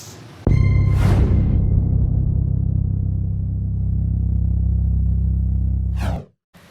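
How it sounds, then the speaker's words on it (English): A Suzuki Dzire GL AGS engine starts abruptly and holds a loud, steady low rumble for several seconds, then cuts off sharply. "stick around as we drive the Suzuki Dzire GL AGS"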